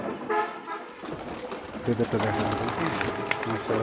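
Giribaj pigeons coo in low, repeated bursts while people talk nearby.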